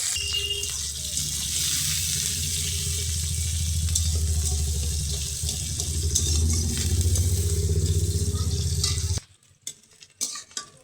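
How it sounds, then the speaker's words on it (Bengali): Chopped onion and green chili fry in hot oil in a pan while kalmi greens are being cooked, giving a loud, steady sizzle with stirring scrapes that cuts off abruptly near the end, followed by a few faint clinks. "তেল গরম হয়ে গেছে, পেঁয়াজ আর কাঁচা ঝাল দিয়ে দিলাম ভাজার জন্য।"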